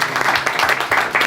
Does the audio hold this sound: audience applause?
yes